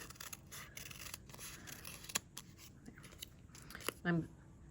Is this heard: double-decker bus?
no